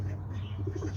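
Pigeons coo softly in a loft with a new hatch, low rolling calls close by against a steady background hum.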